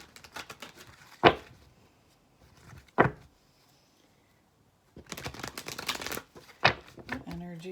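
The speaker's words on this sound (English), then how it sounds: "Let's get a good shuffle here." Tarot cards being shuffled in several quick riffling bursts, sharp snaps between quieter gaps, with a voice speaking over parts of it.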